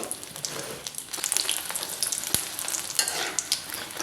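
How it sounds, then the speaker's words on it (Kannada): Dried red chillies fry in hot oil in a pan, a steady close crackling sizzle with scattered pops and one sharp tap partway through, no voices. "ಅದೇ ಬಾಣಲೆಗೆ ಒಂದು 10 ಆಗುವಷ್ಟು ಒಣಮೆಣಸನ್ನು ಹಾಕಿ ಇದನ್ನು ಕೂಡ ನಾವು ಚೆನ್ನಾಗಿ ಹುರಿದುಕೊಳ್ಬೇಕು"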